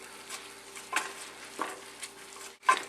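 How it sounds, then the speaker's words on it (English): Mushroom risotto being stirred in a pan after a splash of white wine, soft scraping strokes of a spoon at an unhurried pace over a faint low simmer, close and quiet. "So continue stirring for about a minute."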